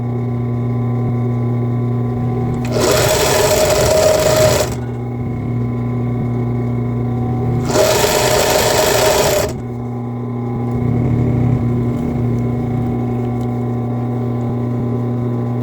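A sewing machine stitches tensioned elastic onto a bra strap, its motor humming steadily while three loud, even runs of stitching rise and stop over roughly fifteen seconds.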